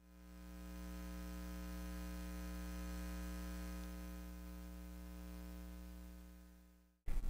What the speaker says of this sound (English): One out of the box issue I had with this card is fairly evident coil whine